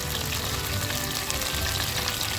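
Chopped garlic sizzles in hot butter and oil, a steady, loud, close frying hiss that holds evenly throughout with no talking.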